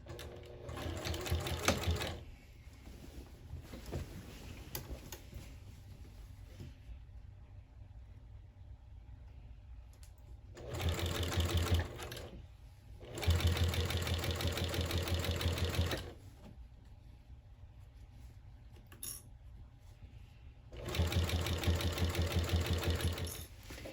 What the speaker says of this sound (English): I'm just going to go ahead and start with my top stitching